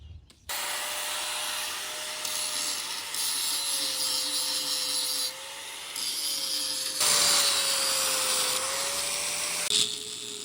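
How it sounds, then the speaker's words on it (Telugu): A grinding wheel grinds off old weld from a bush on a John Deere 5050D 4WD tractor, a continuous whining drone that holds steady for about ten seconds, shifting in pitch as the pressure changes. "దాన్ని అయితే తీసుకొని గ్రైండింగ్ వీల్తో అయితే నీట్గా గ్రైండింగ్ చేసుకోవాలి ఆ వెల్డింగ్ అంతా"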